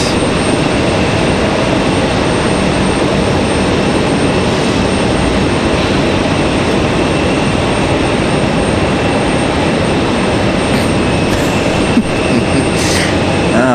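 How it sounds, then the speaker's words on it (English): Continuous loud roar of a Delta jet airliner arriving at a stormy Raleigh-Durham International Airport, a broad steady engine rumble that holds throughout with no talking. "Delta 1656 is going to be our next arrival, coming in from Los Angeles."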